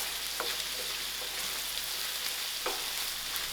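Onions, garlic, green chilies, bay leaf and cinnamon stick frying in a pan, a steady close sizzle with a few soft stirring scrapes and no talk.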